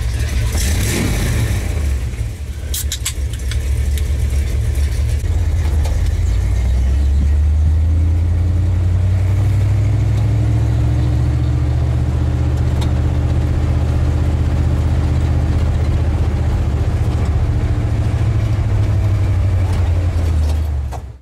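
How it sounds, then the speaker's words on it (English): A 1981 Dodge Ram D-150 pickup truck engine revs hard and climbs through the gears, a loud, close, steady roar rising and falling in pitch between shifts. "take it for a couple of runs and run it through the gears and"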